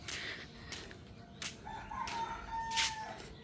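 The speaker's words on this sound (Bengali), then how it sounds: "ওই যে মুরগি দেখা যেতেছে" A rooster crows at mid-distance in a rural household yard around half past nine in the morning, its long drawn call rising over a steady outdoor background hum, with no talking.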